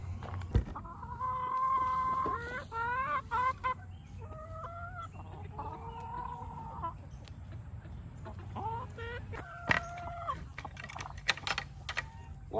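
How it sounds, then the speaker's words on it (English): Several hens cluck and squawk in repeated bursts close by as they are let out of their pen, their calls rising and falling over a steady low rumble, with sharp tapping clicks scattered throughout. "Let's see if these hens want out."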